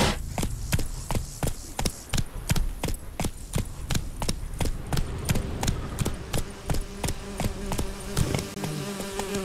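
Roach the horse's hooves in The Witcher 3, a steady rhythmic run of sharp, evenly spaced hoof strikes, loud and close, over a buzzing insect-like ambient bed.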